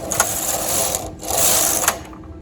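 Knitting machine carriage sweeping across two rows of pink yarn while working tuck stitch circles, two loud whirring, rattling passes with a brief pause between them and clicks at each row end.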